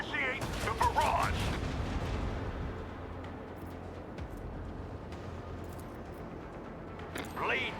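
Artillery barrage in the video game Warhammer 40,000: Rogue Trader, heavy booming impacts and rumbling blasts layered with game sound effects, loud at first and then settling into a lower rumble.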